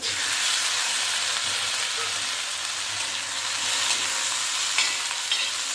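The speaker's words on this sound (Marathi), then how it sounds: "आता ही भेंडी पण भाजून घेऊया" Okra roasting with a little oil on a flat iron griddle, a steady close sizzle with occasional faint stirring scrapes and no voices.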